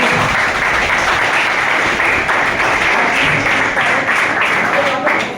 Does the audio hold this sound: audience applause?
yes